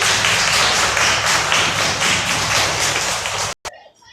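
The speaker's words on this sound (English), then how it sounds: "Clap for yourself." A classroom of children claps for themselves, a dense steady burst of many hands close by, cutting off abruptly near the end.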